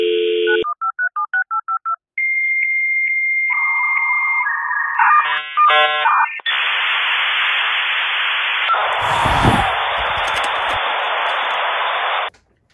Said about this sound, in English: use dial-up modem and an old Nintendo to call our friend Gale